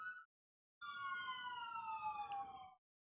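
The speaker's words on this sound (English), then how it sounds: "some loud sirens." Loud wailing sirens sweep past for about two seconds, steady rising and falling tones over a rumbling background, with a brief siren blip just before.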